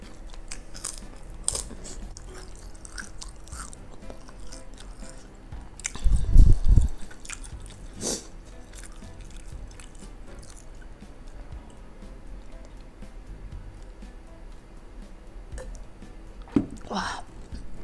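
Biting and chewing pempek Palembang fish cake in an Indonesian mukbang, with a loud burst of close crunchy, squishy bites midway and softer wet chewing and mouth sounds throughout, a brief further bite near the end.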